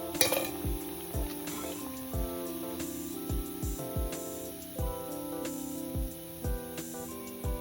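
Alasanda vada, village-style black-eyed pea and amaranth fritters, sizzling in hot oil, a steady bright fry broken by repeated soft knocks and scrapes of a utensil stirring the pan, near and constant.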